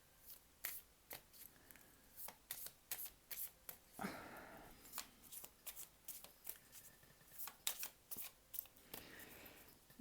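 Tarot cards are shuffled by hand on a table in a series of repeated crisp riffling bursts, close and fairly soft, with no talking.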